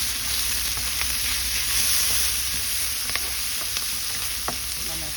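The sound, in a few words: sautéing onion, garlic and tomato in a pan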